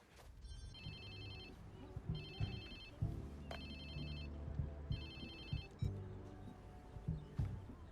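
A phone rings in the video game Watch Dogs 2, four evenly spaced electronic trilling bursts repeating over a low rumbling background with scattered thuds.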